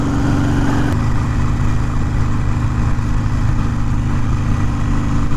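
A 2020 Harley-Davidson Iron 883 with the 1250 Hammer kit being broken in, its engine droning steadily at moderate revs with a dense low rumble and wind, held gently without lugging for the whole stretch.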